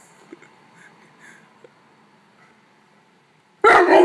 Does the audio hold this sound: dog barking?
yes